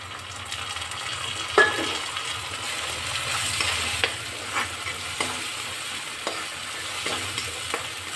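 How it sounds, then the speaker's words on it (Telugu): Tomato paste frying with ginger garlic paste in a pan for a cashew tomato gravy, with a steady sizzle under repeated stirring scrapes and a few sharper clinks throughout, no voices. "ఇది కొంచెం పచ్చివాసన పోయేంత వరకు వేయించుకుంటే సరిపోతుంది"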